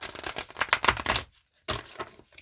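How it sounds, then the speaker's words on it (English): Thick oracle cards riffled and shuffled by hand in close, crisp bursts of flapping and clicking, then a brief pause before a shorter final shuffle. "One more shuffle, okay?"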